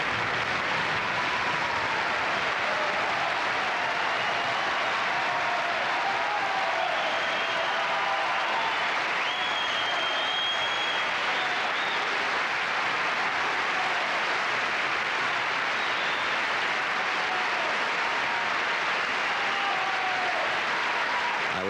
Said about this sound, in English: And again, we have the beginnings of rhythmic applause.